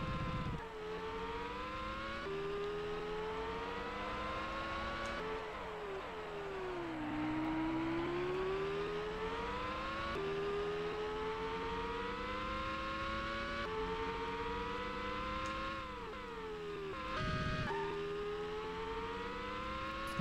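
A Formula One car engine in the PS1 video game Formula One 2000 whines and revs, climbing in pitch through repeated gear changes, with brief drops between shifts, loud and continuous.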